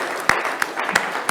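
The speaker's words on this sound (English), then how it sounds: "a spontaneous eruption of applause is probably the way that we'll go with that" Scattered audience clapping greets a guest arriving at a football business panel. A handful of distinct claps about a third of a second apart sound over a room murmur, briefly.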